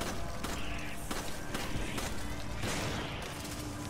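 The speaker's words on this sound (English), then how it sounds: "why are you using your shotgun on fucking spiders?" Shotgun blasts fired at spiders in the video game Resident Evil 5, a series of loud broadband bangs at uneven intervals over a busy mechanical game soundscape, with no talking.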